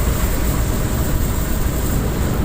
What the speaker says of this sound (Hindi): अब आपको हवा अलग आवाज़ सुनाई दे रही होगी।